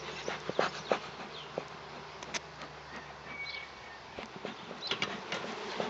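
Honeybees swarm around an open hive being worked, a steady close buzzing hum with individual bees zipping past the microphone and faint light clicks from handling, no voices.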